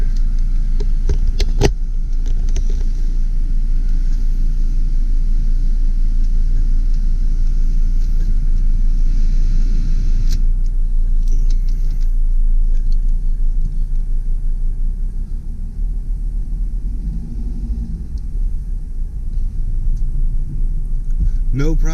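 A 2005 Freightliner Sprinter 10-passenger turbo diesel van driving, with a loud, steady low engine rumble and road noise throughout, under occasional talk inside the cabin.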